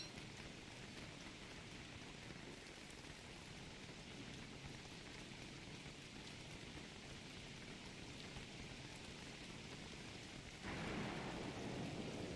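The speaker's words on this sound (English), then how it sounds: "Alright, it's starting to rain a little hard, so I'm going to put the umbrella on." Heavy rain falls steadily in the survival video game Don't Starve, a constant dense hiss of drops with no pauses, growing slightly louder toward the end.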